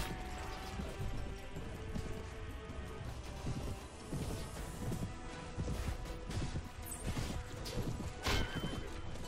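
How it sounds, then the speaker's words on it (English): Cavalry horses charge in Mount and Blade Warband during a medieval siege, a dense battle din of galloping hooves, whinnies and clashing impacts that stays loud and busy throughout without letup. "meaning that the cavalry are charging in"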